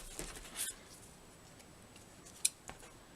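Scissors trimming paper by hand at a craft table, a few faint quick snips and clicks spaced across a short quiet moment, with no talking.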